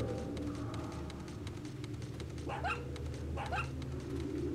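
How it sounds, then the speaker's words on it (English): A dog in Resident Evil 4 gives two short barks or yips, moderately near, over a steady low ambient hum with no talk. "Dog!"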